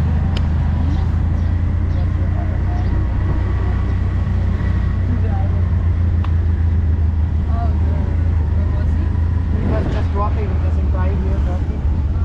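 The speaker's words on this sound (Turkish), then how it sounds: "şimdi tuktuk bizi limana getirdi" A tuk-tuk ride through traffic in Cambodia on the way to the harbor: a loud, steady engine drone with road rumble and passing vehicles, and people talking over it.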